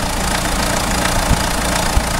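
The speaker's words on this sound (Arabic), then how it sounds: "بعد ما ركبنا لها المحرك هذه ولت فيها الرجة هذه فوف فوف فوف، شوفوها الرجة هذه" A Renault Scenic diesel car with a swapped F8T engine idles roughly, a steady loud drone with an uneven knock and shaking pulses, no voices.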